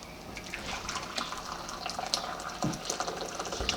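Boiled water pours and splashes into a plate nearby, with a bubbling, trickling sound and a few sharper splashes toward the end.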